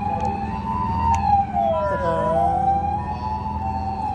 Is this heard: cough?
no